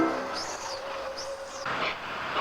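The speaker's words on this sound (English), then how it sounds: "The R class is a prime example of the fast passenger locomotive employed on the Victorian railways." Victorian Railways R class steam passenger locomotive running on the line, a steady rolling rumble with faint high whistle-like tones, becoming louder and brighter toward the end.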